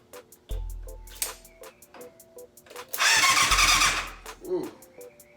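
A 1988 Yamaha FZ750 motorcycle under rebuild cranking and sputtering as it tries to start, with a regular ticking pump in the background and a louder roaring burst near the middle.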